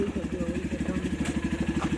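A nearby motorcycle engine idles with a rapid, even, throbbing pulse, and voices murmur underneath.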